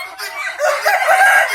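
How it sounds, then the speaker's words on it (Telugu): Desi pandem fighting-breed rooster crowing at a breeding setup in Telangana, a single loud, close crow stretching through the moment with a little faint background. "కోళ్ళు దేశీలు."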